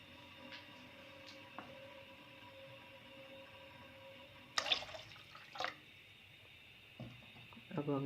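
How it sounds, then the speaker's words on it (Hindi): Cold water is poured into a pot of sugar syrup being made for halwa in a home kitchen. It makes a short, faint splashing gush midway, then a second brief pour, set against quiet background hum. "अब हमने थोड़ा सा ऊपर से ठंडा पानी डाला है"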